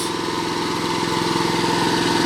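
A wood chipper's small motor runs steadily at high revs, loud and close, with a constant droning hum and no voices.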